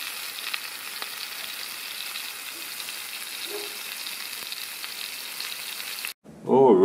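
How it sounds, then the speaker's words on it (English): Beef roulade stuffed with pistachio, figs and prosciutto browns in a hot pan, giving a steady close sizzle and frying hiss that runs evenly, then cuts off abruptly near the end as a brief louder clatter follows. "all we're doing at this stage is just browning it up."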